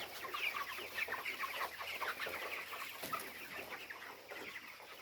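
Many chickens clucking together inside a chicken shed, a continuous busy chorus of overlapping calls at moderate distance.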